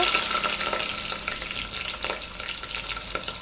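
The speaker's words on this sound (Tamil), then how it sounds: "ஆனியன் வந்து நல்லா ப்ரௌன் ஆகிற வரைய வதக்கி விட்டுக்கலாம்" Lengthwise-sliced onions and green chillies sautéing in oil for chana biryani, a loud continuous close sizzle with crackling and stirring movement.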